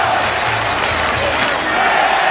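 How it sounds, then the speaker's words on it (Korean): A large crowd at a 2006 World Baseball Classic game between the USA and South Korea applauds and cheers in a dense, steady roar that fills the stadium, with an announcer's voice partly mixed in. "대한민국 박수도 이제 울려 퍼지기 시작하고요."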